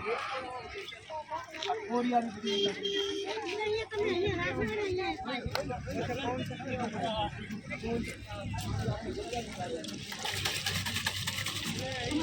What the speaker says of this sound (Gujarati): આ એ જગ્યા છે કે જ્યાં કોઈ પણ પ્રકારની મોટર વગર સીધું જ પાણી નીકળે છે